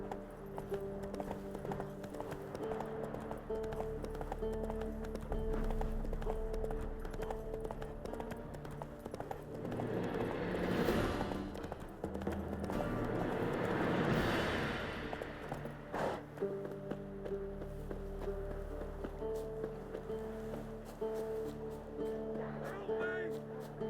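A horse gallops in The Witcher 3: Wild Hunt, its hooves drumming in a steady, loud rhythm over the full length. Game music plays underneath, and the gallop swells twice as the horse passes through the scene.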